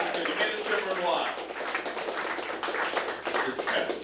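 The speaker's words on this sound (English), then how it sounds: "Give yourselves a round of applause." A comedy club audience claps and cheers in a sustained burst of applause, dense and fairly loud, with scattered voices mixed in throughout.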